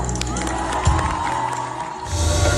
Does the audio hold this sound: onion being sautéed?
no